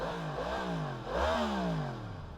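Stock-exhaust 2023 Yamaha MT-10 engine revving up and down in two swells, close and steady, with harmonic rising and falling pitch and no talk.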